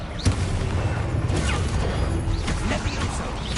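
Loud, dense spell-combat effects from Hogwarts Legacy, with a booming Expulso explosion spell among a steady wash of crashes and whooshes; a voice shouts over the action.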